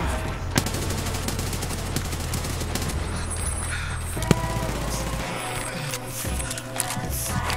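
Continuous gunfire from a firefight in the video game Escape from Tarkov, with dense overlapping bursts and several sharper single reports standing out, loud and steady throughout without speech.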